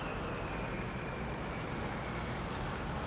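Rush hour traffic in a city gives a dense, continuous roar of cars, buses and trucks, steady and fairly loud throughout with no voices.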